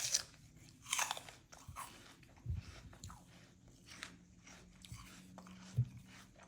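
A firm, juicy apple with yellow flesh is bitten with a crisp crunch and then chewed in quiet, irregular crunches close to the mic.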